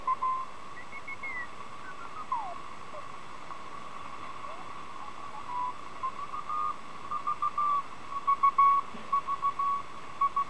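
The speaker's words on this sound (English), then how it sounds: "the repetitive Morse call sign V being sent over and over again" Through a W.S. No.19 radio set near 4.45 MHz, a Russian channel marker sends the Morse letter V over and over as a faint steady tone, with rhythmic keyed beeps under a broad hiss of static and no talking.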